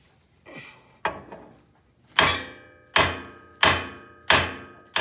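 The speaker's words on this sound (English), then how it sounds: "We went and got a sledgehammer, and we're gonna have to hit right here until the ball joint" Sledgehammer blows strike a Honda Civic's lower control arm ball joint, trying to pop it loose: a few lighter taps, then four heavy, evenly spaced metallic bangs, each ringing briefly before the next, close and loud with no talk.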